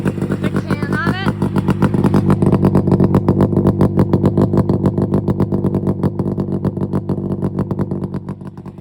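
Snowmobile engine with an exhaust can fitted, idling and revving in a loud, rapid, rough pulsing drone close by, swelling briefly then settling, with a voice talking over it.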